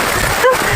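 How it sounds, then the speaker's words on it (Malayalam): Heavy rain falls steadily at Munroe Island, a loud, dense hiss with a short voiced sound briefly breaking through. "നല്ല മഴയാണ് കേട്ടോ."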